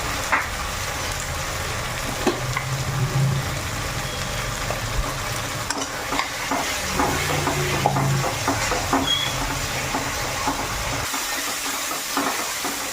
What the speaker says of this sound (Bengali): তো এদিকে মশলাটাও ভাজা হয়ে গেছে।